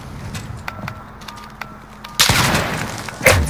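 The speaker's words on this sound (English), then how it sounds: "I took two shots at him and haven't killed him" Gunfire in Call of Duty Modern Warfare, sharp shots and clicks under quiet game ambience, then a sudden loud burst of firing and booms near the end, no talk.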